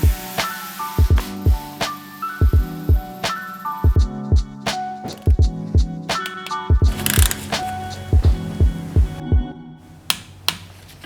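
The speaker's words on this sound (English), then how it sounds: "I'm using the electric ratchet to run the bolts in far enough so I don't have to turn a normal ratchet 100 times per bolt" An electric ratchet runs bolts into a Ford Focus ST engine during a rebuild, giving a steady series of sharp mechanical clicks and buzzing pulses close by with no talking.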